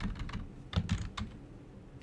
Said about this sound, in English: let's put in the correct password here